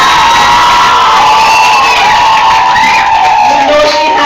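Loud, sustained crowd cheering and whooping fill a graduation ceremony, a dense wall of voices and shouts that stays steady for several seconds with some clapping mixed in.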